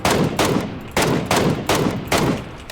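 Rapid bursts of video game gunfire, about five loud sharp volleys in quick succession with brief gaps between them, no talk over them.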